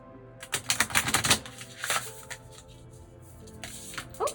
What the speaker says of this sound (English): So I'm just going to shuffle this deck here.